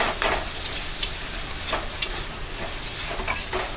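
Dry spices sizzle and hiss steadily in a hot pan as a little water goes in for an egg masala curry, with scraping stirs clattering through the frying noise.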